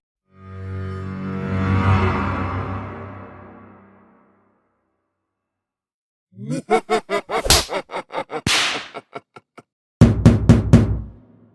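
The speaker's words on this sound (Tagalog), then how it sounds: "may kumakatok" In Brookhaven RP, rapid sharp knocks on a door come in two quick clusters after a long whooshing swell, loud and close with no talking.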